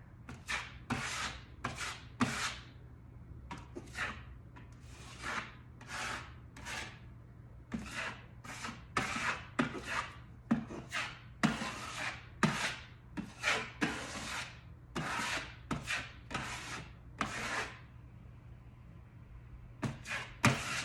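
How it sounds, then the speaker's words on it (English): Trowel scraping and smoothing heavy Tuscan texture on a wall, a series of rapid rasping strokes in uneven bursts, close and fairly quiet, with short gaps between passes. "So you can use a larger trowel if you need to"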